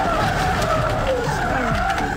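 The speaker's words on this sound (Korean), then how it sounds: "속도를 줄이지 못한 채 그대로 앞에 가던 차량을 덮쳐버린 버스." A drowsy driver's bus fails to slow down on a road and slams into the car ahead. Loud, sustained tire screeching and engine roar fill the whole stretch, with no talk.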